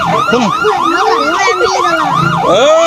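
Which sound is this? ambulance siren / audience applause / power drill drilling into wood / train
ambulance siren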